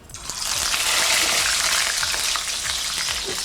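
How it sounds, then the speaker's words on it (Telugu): Fish pieces fry in hot oil in which curry leaves and green chillies were cooked just before, giving a loud, steady sizzle with a dense, continuous crackle and a few soft clinks of a stirring utensil. "చేప ముక్కలన్నీ ఫ్రై చేసేయాలండి ఇప్పుడు"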